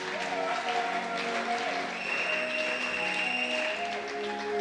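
Church congregation applauding and cheering, a sustained crowd of clapping with voices and sustained music tones underneath, steady and fairly loud.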